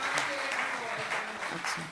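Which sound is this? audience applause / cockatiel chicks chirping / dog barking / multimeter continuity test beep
audience applause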